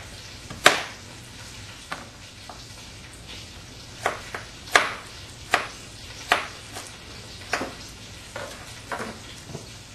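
A knife splits vegetables on a cutting board in a series of irregular, crisp chopping knocks spaced a second or so apart over a low background hum.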